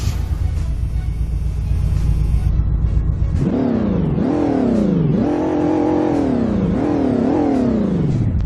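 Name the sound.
pickup truck engine revving in video game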